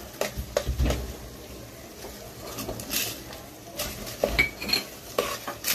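Whole spices being stirred with a metal spoon in a pan with ginger-garlic paste for paneer masala, repeated scraping and clinking strokes up close over a soft sizzle, no speech.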